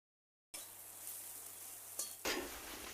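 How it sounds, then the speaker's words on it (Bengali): Eggplant slices fry in a pan on a home stove, giving a steady close sizzle with a brief stir and a scrape near the end, no voices. "আমি এখন বেগুনটা ভাজা করে নিচ্ছি।"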